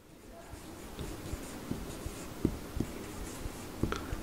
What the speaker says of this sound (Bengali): আমি লিখে দিচ্ছি কি কি হবে।